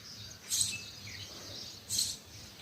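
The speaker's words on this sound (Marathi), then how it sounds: "चिमण्यांचा चिवचिवाट" Sparrows chirp in two short bursts about a second and a half apart, moderately close against a quiet outdoor background with a faint insect-like hum.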